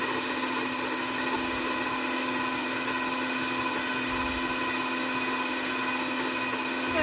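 An electric mixer runs steadily in a bowl of apple pie ingredients, giving off a loud, constant motor whine with no pauses for the whole stretch.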